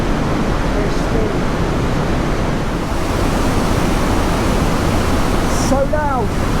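Roaring water of Trümmelbach Falls thundering through a steep rock gorge near Lauterbrunnen, a dense, steady, close rush that fills the whole clip with only faint brief tones above it.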